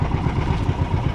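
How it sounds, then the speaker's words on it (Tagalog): Fishing boat engine running at sea, a loud continuous low chugging rumble with an even pulsing throb, close and alone without talk. "Nakaandar lang yung makina mo"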